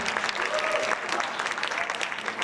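A crowd claps steadily for a scholarship award winner at an academic decathlon ceremony, with a brief cheer rising over the dense, even applause.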